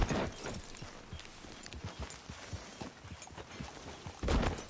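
Horse hooves clop steadily on the ground in a video game, a soft, regular walking rhythm with a louder rustling burst near the start and again at the end.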